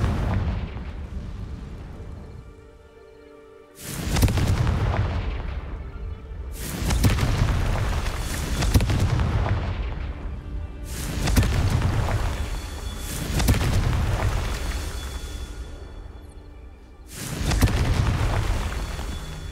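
Confringo spell blasts in the Hogwarts Legacy video game, five loud booming explosions spaced a few seconds apart, each with a sharp onset and a long rumbling decay.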